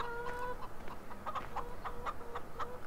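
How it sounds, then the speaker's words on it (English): Chickens in the farming video game Farming Simulator 2013 cluck in a steady, rhythmic string of short notes, quiet and continuous with no talking. "The chickens are looking good"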